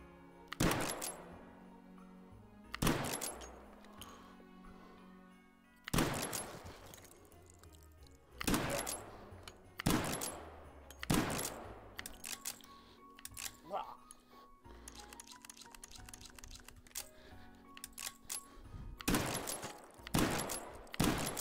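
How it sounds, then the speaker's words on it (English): Close rifle shots, likely from a lever-action, fired at sausages as targets, sharp cracks repeating at irregular intervals roughly every one to three seconds, with mechanical action noises and faint talk between them. "We'll shoot these sausages."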